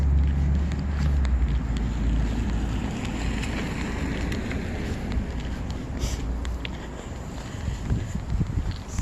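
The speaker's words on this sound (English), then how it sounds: "The wind just goes through you, doesn't it?" Cold wind buffeting outdoors by a roadside in Leicester, Vermont, a steady, loud low rumble of gusts pressing on the microphone, continuous throughout.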